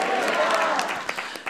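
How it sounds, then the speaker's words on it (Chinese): Church congregation applauding, a burst of many hands clapping together that starts full and thins out toward the end, with crowd murmur and a voice mixed in. "拍手把荣耀归给主好不好？"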